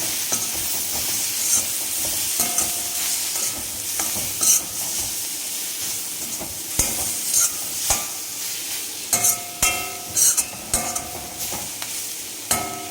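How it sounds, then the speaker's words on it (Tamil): Chili powder masala sizzles and fries in a pan while it is stirred. Scraping strokes and clinks of the utensil come in an irregular rhythm over a continuous hiss, close and without speech. "இதுக்கு தேவையான அளவுக்கு மிளகாய் பொடி போட்டுக்கோங்க. நல்லா ஒரு தடவை மிக்ஸ் பண்ணி விட்டுக்கோங்க."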